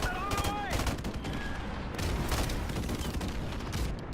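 Bursts of burst-rifle fire in a video game crackle in rapid clusters at close range, with loud, steady volleys repeating throughout and faint whistling game effects in between.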